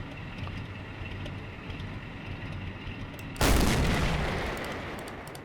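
A tank in the Men of War game fires a high explosive shell, heard as a single loud, deep blast that rolls out and slowly fades over steady low engine rumble.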